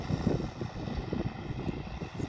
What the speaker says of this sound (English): That's a beautiful sound of that tractor.